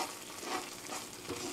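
Tomato sauce simmering in a pan while being stirred, a brief close bubbling and scraping texture with a soft sizzle, no speech.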